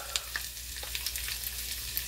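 Cooked charro beans are ladled into a pot, giving a soft wet clink and shuffle of liquid over a steady stovetop sizzle, close and moderately loud, with no talking.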